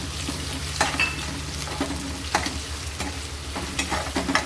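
Onion hits a hot pan for a sprouted moong curry, frying with a continuous close sizzle punctuated by several sharp spatula scrapes and stirring knocks at irregular intervals, no talking.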